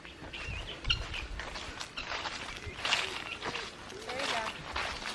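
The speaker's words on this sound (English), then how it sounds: "You guys hear the guineas?" Harsh, repeated guinea fowl calls chatter at mid distance over a soft outdoor background on a homestead, with a person speaking quietly at times.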